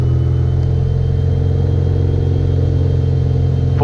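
Light aircraft engine running at full power during a takeoff roll on a rainy day, a loud, steady droning roar with strong low harmonics that holds level throughout.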